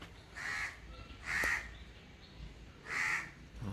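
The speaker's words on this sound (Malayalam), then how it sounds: "നോക്ക് കാക്കയുടെ സൗണ്ട് കേട്ടപ്പോൾ." A crow cawing outdoors near a duck enclosure, three clear harsh caws spaced about a second apart over a quiet background, moderately distant.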